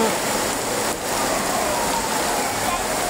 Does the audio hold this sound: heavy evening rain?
yes